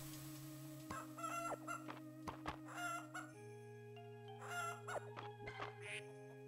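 Hens clucking in the farming video game Fields of Mistria, a flurry of short clucks and squawks from several birds over steady looping background music, fairly close and lively.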